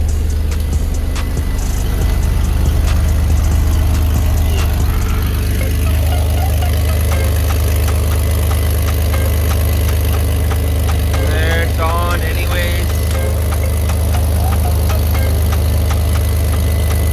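A Chevy S10 pickup's engine idles with a steady low rumble, running after an O2 sensor repair, while faint clanks and brief mechanical noises sound nearby.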